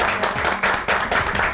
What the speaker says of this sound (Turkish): Şimdi Cansu'ya küçük bir alkış istiyorum.